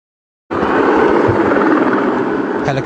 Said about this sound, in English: Helicopters have been ferrying rescue workers to and from the site in the last few moments